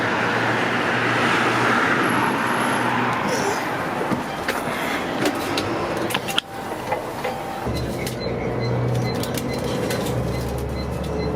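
A city bus rolls past in busy Kuwait City street traffic, a broad roar of engine and road noise that swells and fades, with other vehicles and faint birds around.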